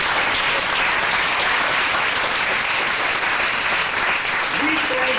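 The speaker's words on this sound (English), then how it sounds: "Let us give the Lord a hand clap of praise." A church congregation claps hands in praise, a broad, sustained wash of applause from many people filling the room, with voices faintly mixed in beneath.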